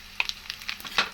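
A tempering of mustard seeds, cumin, dried red chillies and curry leaves crackles in hot oil for gongura chutney, with irregular sharp pops and spits over a low sizzle.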